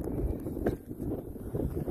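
Wind gusts outdoors in snowy weather and buffets the microphone with a steady low roar and rumble across the whole short clip, with no voices.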